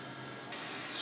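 A quiet background hum, then a spray adhesive can for gluing foam bursts into a loud, steady hissing spray halfway through, continuing to the end.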